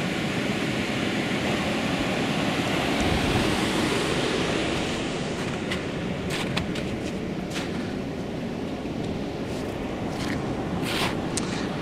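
Water rushes steadily over a river dam on a rural property, a loud, continuous broadband roar close by with gusts of wind noise and no voices.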